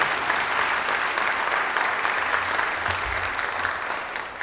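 A roomful of Rotary Club members in Cincinnati applaud during a teacher appreciation meeting, a sustained, dense wash of clapping that stays loud and steady throughout.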